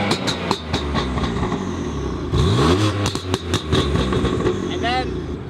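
A BMW M4 fitted with an Armytrix exhaust and stage 2 tune, valves closed, pops and crackles in rapid backfire bursts between engine revs, loud and close, with a rising rev sweep near the end.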